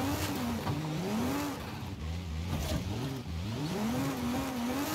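A Mazda MX-5 accelerates in Forza Horizon 5, its engine note climbing through the revs, dropping at a gear change, then rising again in a steady, close, buzzing drone with no voices.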